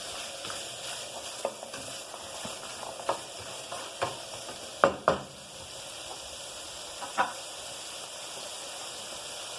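Onions with red and green peppers are stirred in a hot cooking pan, a steady sizzle punctuated by a series of spoon knocks and scrapes against the pan, close and clear.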